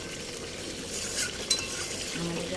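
Chicken sautéed and stirred in a pan for restaurant-style chicken gravy: a steady close sizzle with occasional spatula scrapes and light clinks, and no voices.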